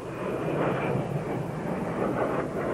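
An A-10 military jet attack aircraft flies by in a steady, loud, broadband engine roar that fills the whole moment with no pauses and no voices.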